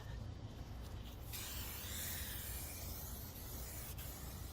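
Spray paint hissing steadily over the rear section of a car chassis being painted outdoors on a budget, a continuous close broadband spray.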